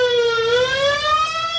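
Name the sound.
ambulance siren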